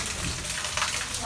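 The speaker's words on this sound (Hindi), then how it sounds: "बारिश तो बहुत ही तेज़ हो रही है।" Heavy rain pours down in a dense, steady hiss that lasts the whole brief moment, with no distinct drops standing out.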